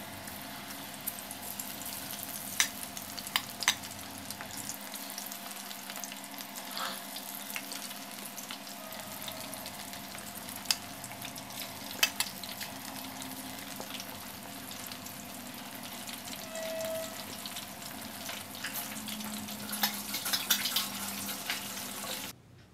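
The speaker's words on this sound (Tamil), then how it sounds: "இப்போ நல்லா ஃப்ரை ஆகிட்டுருக்கு." Soya chunks for soya Manchurian fry in hot oil in a large pan, a steady, soft, continuous sizzle with faint crackles running throughout, no voices.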